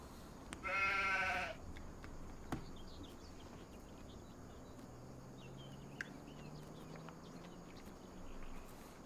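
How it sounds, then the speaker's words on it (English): A sheep in Farming Simulator 25 gives a single clear, wavering bleat near the start, followed by quiet outdoor ambience with faint insect chirps and a few small clicks. "Alright, we got sheep."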